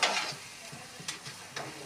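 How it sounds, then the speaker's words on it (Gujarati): Carrot pudding cooking with ghee in a pan is stirred quickly, giving a soft sizzle with faint scraping strokes, quiet and close. "એકદમ આપણે ફટાફટ હલાવી નાખીએ"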